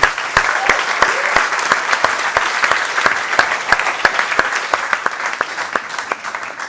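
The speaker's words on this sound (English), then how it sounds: "a very last applause for Jacob when he's walking out." An audience at a TEDx event in Lisbon claps steadily and fairly close, dense applause with sharp individual claps standing out throughout.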